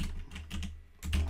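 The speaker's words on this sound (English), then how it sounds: "I'm just typing these out the way I'd like it to appear in the file." Typing on a computer keyboard while entering CSV header text, heard as soft, close clusters of key taps in short bursts with brief pauses, no voices.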